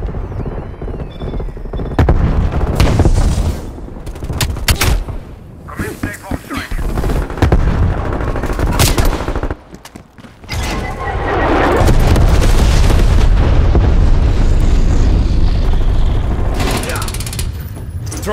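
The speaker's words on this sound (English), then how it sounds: "Sending frag grenade." Frag grenade blasts and bursts of gunfire in a Call of Duty: Black Ops Cold War team deathmatch, loud and dense, with booms, rattling mechanical clicks and a voice calling out between the explosions.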